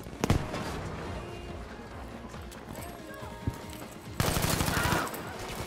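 Bursts of gunfire from the video game Battlefield V crackle amid busy game noise, with a loud sustained volley near the end.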